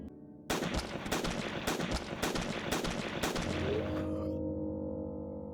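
Rapid bursts of gunfire from the video game Outbreak: The Nightmare Chronicles, loud and dense for about three and a half seconds with clustered shots, then cutting off into a lingering low tone.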